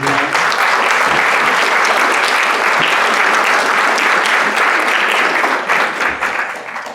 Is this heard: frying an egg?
no